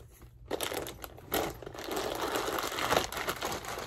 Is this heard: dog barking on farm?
no